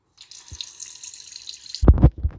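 Running water pours from a tap for washing the hands and face in the Roblox Brookhaven game, a steady hiss of about a second and a half, followed by a few louder splashy thuds.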